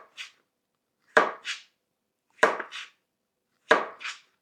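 A knife cuts lengthwise through an avocado on a board in a home kitchen, giving four distinct crisp chops spaced about a second apart. Each chop has a short follow-on scrape, and no one talks over them.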